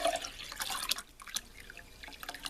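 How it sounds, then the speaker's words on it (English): Ginger drink poured into a container, a run of splashing, dripping liquid with irregular drops and trickles, close and fairly quiet with no talk. "So let's just pour it in."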